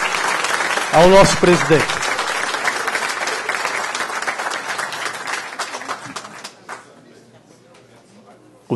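A council chamber audience at a solemn anniversary session of Itapevi gives a loud round of applause in honour of the president, clapping dense at first then thinning and fading out, with a voice speaking over the start.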